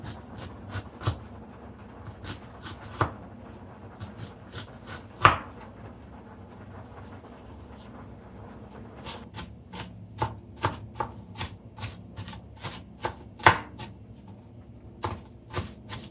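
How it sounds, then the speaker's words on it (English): A knife finely chops an onion on a cutting board, bursts of quick sharp taps with brief pauses between runs, close and fairly quiet. "I'm gonna cut the onion as fine as I can."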